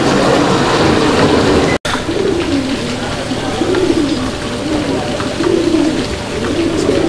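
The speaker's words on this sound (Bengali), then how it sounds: "আপনারা দেখতে পাচ্ছেন এই যে নটটা ডাকাডাকি করতেছে, একদম উড়াদুরা ডাকের কবুতর মাশাআল্লাহ, ভরপুর ডাক" Black Madrasi domestic pigeons coo close by in a loud, continuous chorus of overlapping rolling calls, with a short gap early on.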